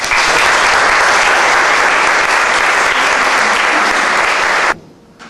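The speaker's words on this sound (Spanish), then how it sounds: "Recibamos todos con un fuerte aplauso a Juan Manuel" Loud, dense applause from an audience welcoming a speaker to a talk, a continuous roar of clapping that holds steady for nearly five seconds and then cuts off abruptly into near silence.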